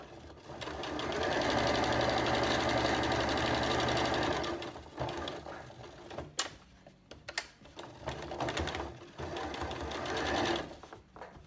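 A sewing machine runs steadily for about four seconds, stitching a fabric thread catcher pin cushion near the edge, then stops and gives way to scattered clicks and handling noises before whirring again briefly near the end.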